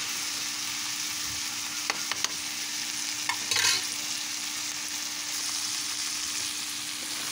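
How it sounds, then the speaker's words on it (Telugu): Cluster beans fry under a lid in a pan, giving a steady, even sizzle with a few faint clicks, continuous and close. "ఇలా కలిపేసిన తర్వాత మూత పెట్టేసి ఒక 10 నిమిషాల పాటు ఫ్రై అవనిద్దాము"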